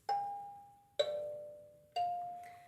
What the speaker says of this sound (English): the kalimba strokes